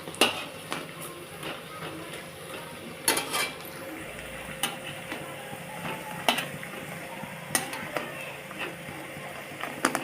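Bitter gourd leaf fritters fry in oil in a kadai with a soft, steady crackle, punctuated by sharp clinks and scrapes of a utensil against the pan at intervals.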